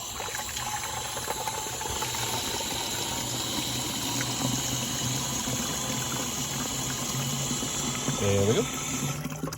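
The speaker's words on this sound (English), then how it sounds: "we're gonna put us about 1/4 of a gallon in our sprayer here." Water running steadily into a garden sprayer tank for mixing turf weed killer, a continuous hissing pour with a brief bubbling gurgle near the end, while someone speaks briefly.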